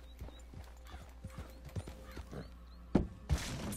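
Horse hooves clip-clopping in Red Dead Redemption 2, a steady run of close hoof beats over a low background hum, followed by two sharper thuds near the end, with no talking.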